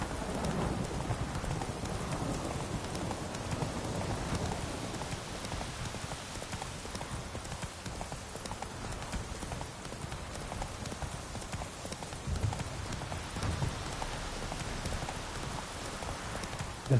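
Roach the horse clip-clops at a steady run through rain in The Witcher 3, hooves drumming under a continuous wash of rainfall, with no talk over it.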